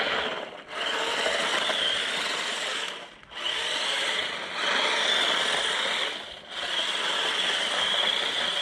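A JJRC Q123 1/16 scale RC drift truck on grip tyres runs across a frosty, icy patch, its small electric motor whining loudly and steadily in three long bursts separated by brief dips, with no talk.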